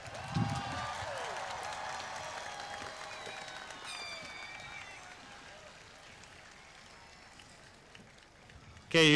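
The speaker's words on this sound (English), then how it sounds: "You guys can applaud." Audience applause at a graduation ceremony, a broad wash of clapping from a crowd that fades gradually over several seconds. Voices murmur underneath.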